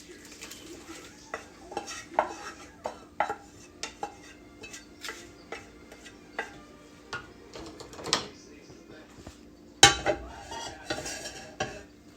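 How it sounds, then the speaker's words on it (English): Cornbread dressing mixture being stirred together with breadcrumbs and vegetables in a bowl: irregular scraping clinks of a utensil against the dish, with a sharp louder knock near the end, close and fairly quiet. "let's just mix it together really good. Combine it all."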